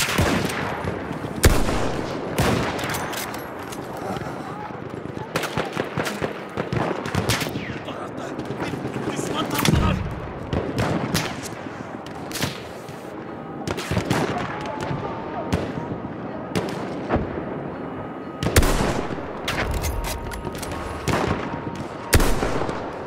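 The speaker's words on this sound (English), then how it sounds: "Halted by our artillery barrage" An artillery barrage and gunfire fill a Battlefield 1 Rush match on the Sinai Desert map, with loud, close blasts and rapid bursts repeating irregularly for over twenty seconds and occasional voices mixed in.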